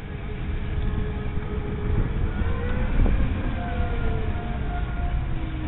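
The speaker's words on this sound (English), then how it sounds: "I'm driving a little Twizy" A small Renault Twizy electric car drives a short go-kart-like course, giving a steady whine and road rumble with faint tonal hums rising and falling, fairly close and continuous with no talk.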